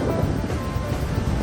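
A 2006 Hyundai Santa Fe MLX diesel's air conditioning blows cold air through the vents, a steady broadband rushing hiss, close and constant with no talk.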